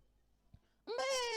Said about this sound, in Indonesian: kambing itu kalau mengembik saja, itu ada 3 jenis embikan kambing